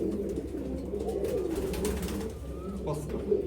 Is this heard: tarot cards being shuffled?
no